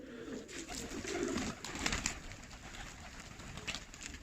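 Homing pigeons, tumbler pigeons and Bosnian pigeons cooing nearby in a coop, soft repeated throaty calls over a busy background of rustling and fluttering.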